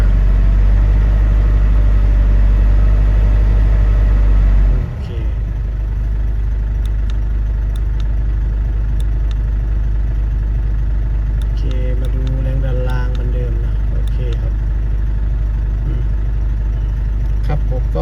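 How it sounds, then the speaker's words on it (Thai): A Ford Ranger T5 with a starting fault runs with its engine raised to about 1500 rpm: a loud, steady low drone that shifts slightly early on, with someone talking nearby. "อันนี้ผมลองเร่งไปที่ประมาณพันห้า"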